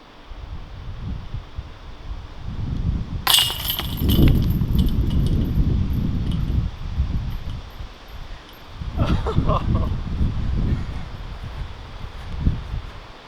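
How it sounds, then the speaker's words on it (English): Gusty wind buffets the microphone on a disc golf course, low rumbling surges rising and falling, with a few brief rattling jingles and a person talking at times underneath. "this entire first episode is gonna take place in some pretty gusty wind"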